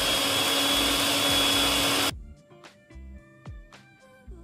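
An electric mixer creams cake batter on low speed for a Jamaican sorrel fruit cake, giving a loud, steady whirring drone close by. It cuts off abruptly, leaving scattered soft knocks and clinks.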